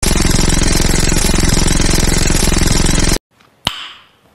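An Uzi submachine gun fires in a shooter video game as one unbroken, loud, rapid burst of over three seconds, then stops abruptly and a single sharp shot-like crack rings out and fades.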